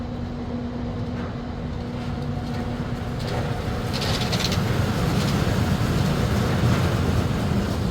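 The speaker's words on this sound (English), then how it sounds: "Yeah, the tram has just passed." A tram running between the Excalibur and Luxor resorts in Las Vegas; a steady, moderately loud mechanical rumble that builds gradually as it passes, mixed with outdoor ambience and no speech.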